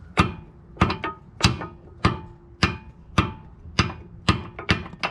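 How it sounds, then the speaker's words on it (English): Nine sharp metallic hammer strikes flatten a washer at a steady, unhurried rhythm during tie rod replacement on a 2002 Toyota Highlander, each ringing briefly before the next blow. "with my hammer, I'm going to be flattening the washer."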